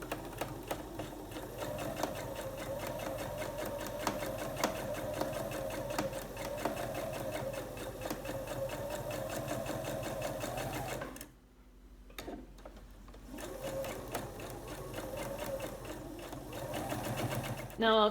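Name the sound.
sewing machine stitching quilt block pieces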